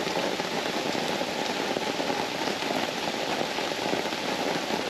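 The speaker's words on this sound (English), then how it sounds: "We usually love rain in the RV." Rain falls on an RV in a steady, even patter and hiss that continues without a break, close and moderately loud with no voices.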